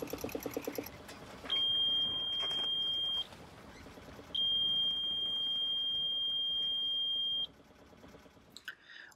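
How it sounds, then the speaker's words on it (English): A steady high-pitched alarm tone sounds twice, each lasting a few seconds, over low background noise with a brief clatter at the end. "the alarm should sound"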